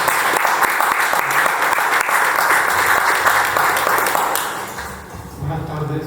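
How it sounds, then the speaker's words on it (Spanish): Audience applause at a literary homage event in an Ibero-American gathering, a dense, sustained crowd clapping that fills the room and tapers slightly near the end. "vamos a recibirlo con un gran aplauso"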